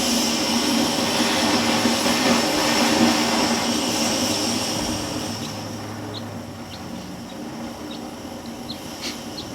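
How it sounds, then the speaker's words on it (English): A propane torch roars steadily on a frozen exhaust stud of an engine intake and exhaust manifold, a loud continuous broadband rush that eases slightly in the second half, with faint small clicks near the end. "So I've got me a propane torch. And let's just put a little bit of heat on this."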